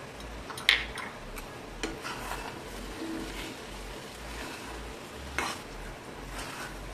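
Saffron for colour being stirred into a kalakand mixture, a steady soft scraping and mixing texture with a few brief clinks, fairly quiet throughout with no talking.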